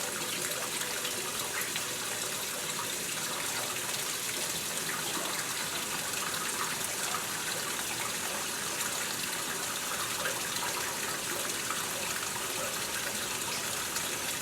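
Water pours steadily into a washing machine tub on a medium water-saver level, a constant broadband rushing and hissing with no pauses or voices.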